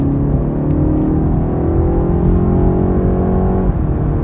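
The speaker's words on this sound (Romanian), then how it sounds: "ce auziți însă voi aici este un sunet artificial în boxe peste cel al motorului." Artificial engine sound played through the cabin speakers of a BMW 330i G20 in sport mode, a loud steady drone heard from inside the car whose pitch climbs slightly, then dips near the end.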